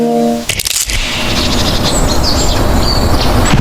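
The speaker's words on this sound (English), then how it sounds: "just the sound of the birds in the trees" Birds chirp and call in the trees, with bright repeated tweets sounding over a dense, noisy outdoor background after a brief sharp crackle at the start.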